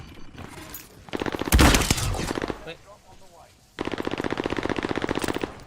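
Rapid automatic rifle fire in the shooter game Warzone Pacific, with a loud close burst followed by a long steady volley, a short break with crunching effects, and a voice speaking over it.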